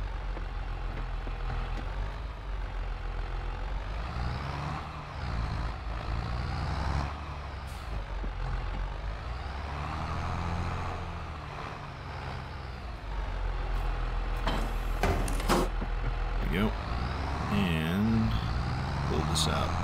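A semi tractor truck idles and rumbles steadily while backing to straighten out and reconnect to a jackknifed trailer near a barn, engine note rising and falling, with an air brake hiss and faint beeping toward the end.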